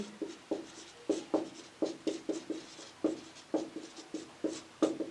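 Chalk or a marker taps and strokes steadily across a board while a math problem is written out, each short stroke distinct and close in a quick uneven rhythm, with no talking.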